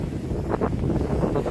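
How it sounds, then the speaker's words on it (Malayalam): Wind buffets the microphone during sabiki-style fishing outdoors, a loud, continuous low rumble with brief gusty swells and no voices. "കാറ്റുണ്ട് കേട്ടോ"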